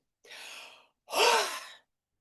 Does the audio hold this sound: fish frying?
no